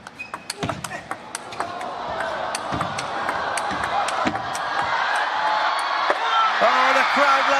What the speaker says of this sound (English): Oh, the crowd loved it